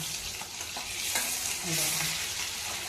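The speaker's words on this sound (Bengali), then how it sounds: "মাছটা একটু পাল্টিয়ে দেবো, ওই পিঠ হয়ে গেছে," Small turmeric-and-salt fish frying in hot oil as they are turned over: a continuous loud sizzle with a few scraping spatula strokes and light knocks against the pan.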